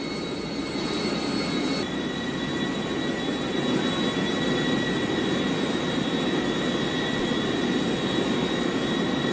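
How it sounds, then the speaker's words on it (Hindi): Jet airliners on a single airport runway, one taking off while another lands, produce a loud, steady engine roar that fills the whole stretch without a break. "एक विमान टेक ऑफ कर रहा है, दूसरी तरफ दूसरा विमान लैंडिंग"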